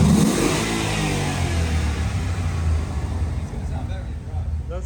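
A Ford Mustang's aftermarket exhaust revs up to around 5,000 RPM against a soft limiter, a loud, steady engine roar held close by. Voices talk over it.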